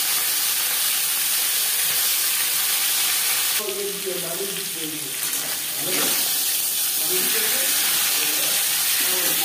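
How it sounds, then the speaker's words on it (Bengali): A katla fish head fries in hot refined oil, a loud, steady hissing sizzle that runs throughout, with a voice talking briefly over it in the middle. "4 চামচ রিফাইন্ড অয়েল গরম করে নিয়েছি, দিয়ে দিলাম মাছের মাথা।"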